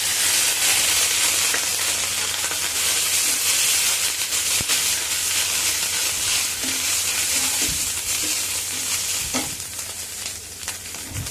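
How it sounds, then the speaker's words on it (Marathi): Grated coconut holding a little moisture crackles and sizzles loudly in a pan, a dense continuous frying hiss with occasional sharp pops and stirring scrapes, no voices. "खोबऱ्यात थोडंसं पाणी असल्यामुळे तडतडता येतं."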